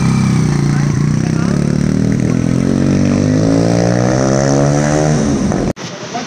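A 150cc or 200cc motorcycle revs during a test ride in Vietnam, its loud, close engine note climbing steadily in pitch before cutting off abruptly near the end.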